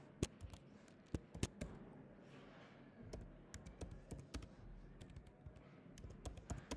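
Rapid, irregular keystrokes on a computer keyboard while code is typed into VS Code, close and fairly quiet, with clustered taps and brief pauses throughout.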